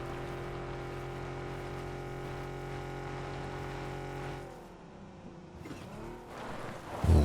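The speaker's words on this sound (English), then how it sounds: "I just heard some bloke in a car" A car engine drives nearby in the battle-royale game PUBG, a steady harmonic drone that holds for about four seconds, then drops and wavers as the vehicle shifts or pulls away. No talking.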